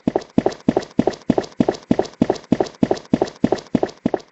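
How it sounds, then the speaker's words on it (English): Footsteps in a Unity survival horror game land in a quick, even rhythm of about fifteen steps, each one a distinct, fairly loud thud, with nothing else behind them. "you can hear the footsteps"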